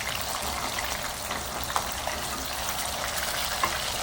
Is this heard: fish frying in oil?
yes